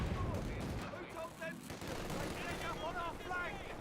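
Bursts of MG42 machine-gun fire from a Company of Heroes 2 match, dense crackling volleys layered with distant battle noise and possible other gunfire throughout, with no speech in the mix.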